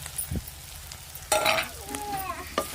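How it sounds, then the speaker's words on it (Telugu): A loud, close sizzle of tomato, onion, ginger-garlic paste and chili masala frying in a pan over a wood-fired stove, with stirring scrapes and short crackling bursts between quieter moments. "లాస్ట్గా అయితే ఇంక మొత్తం వేసుకొని బాగా ఫ్రై చేసుకోవాలి"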